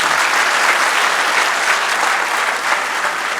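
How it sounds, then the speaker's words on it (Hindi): An audience at an Urdu mushaira poetry gathering in Rawalpindi breaks into loud, dense, sustained applause, a steady wash of many hands clapping together without a break. "तालियां बजा दी।"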